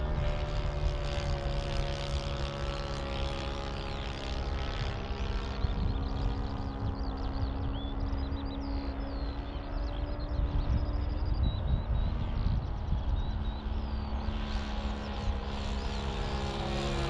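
An H-King PC6 Porter balsa RC plane on its maiden flight, its propeller engine holding a steady, continuous buzzing drone with layered harmonics at an even loudness throughout, no voices.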